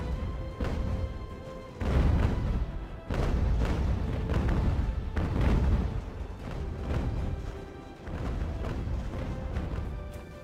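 Repeated heavy booms from a sailing warship's cannons in Ultimate Admiral: Age of Sail, several loud broadside volleys in irregular succession, each with a rolling rumble that fades before the next.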